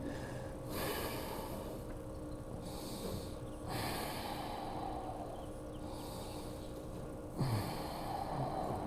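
Breathing during a twisting yoga pose: soft, audible breaths in and out, a few slow cycles with sharper nasal intakes, close and fairly quiet with no talk.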